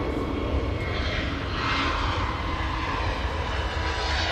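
Airplane engines roar steadily at Manchester Airport as a plane takes off, a loud, continuous broadband rumble with a rising hiss that holds throughout without pause.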